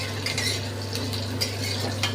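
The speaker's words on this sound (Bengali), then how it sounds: "দিয়ে আদা কাঁচা লঙ্কার সাথে আলু আর রাঙা আলুটা একটু শক্ত তো, একটু নেড়ে নেব বেশ একটুখানি সময় ধরে।" Potatoes and sweet potatoes being stirred in a pan with ginger and green chili for a mixed vegetable dish, a steady scraping of a spoon against the pan over a low cooking hum, close and fairly loud.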